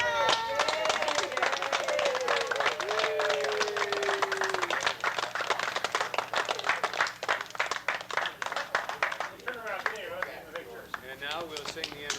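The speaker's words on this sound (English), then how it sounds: "Let's have a big cheer and a big applause now." Scattered hand clapping and cheering from a small group at a 25th wedding anniversary party, uneven and close, mixed with lively voices and some whistling or whooping over the claps.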